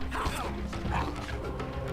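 In the video game Legacy of Kain: Soul Reaver 2, a dog gives short, yelping barks mixed with game sound effects and a dense, busy background.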